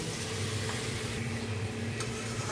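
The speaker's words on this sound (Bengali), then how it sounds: "তো এটাও আমি মিনিট 2 কষিয়ে নেব" Curry masala and tomato cook down in a pan for a potato and potol curry with coconut milk, giving a quiet, steady sizzle with faint stirring.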